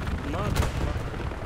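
A tank fires in a World War II shooter game at Hill 400, one heavy boom cutting through steady battle noise, with a player's voice talking over it.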